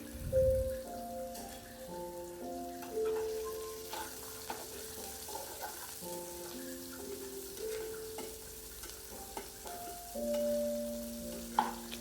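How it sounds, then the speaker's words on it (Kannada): Onion and curry leaves fry in hot oil in a pan, a quiet, steady sizzle with soft crackles and occasional stirring, no one speaking. "ಒಂದು ಅರ್ಧ ಉಳ್ಳಾಗಡ್ಡಿ ಹಾಕ್ಕೊಂಡು ಫ್ರೈ ಮಾಡ್ಕೊಳ್ರಿ."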